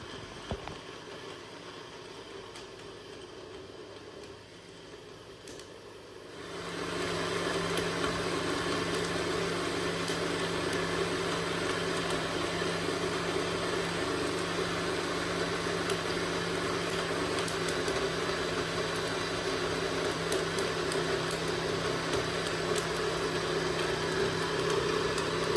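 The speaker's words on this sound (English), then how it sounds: "I will cover it well now, so it will not leak while blending, and I'll go ahead to blend it." A blender starts up after a few quiet seconds and runs continuously with a steady whirring hum while blending a nut smoothie, loud and unbroken to the end.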